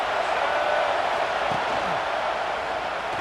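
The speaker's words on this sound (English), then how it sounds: "Listen to the crowd energy here in the early going." A stadium crowd in the EA Sports College Football 26 video game keeps up a broad, continuous roar throughout, with a commentator talking over it.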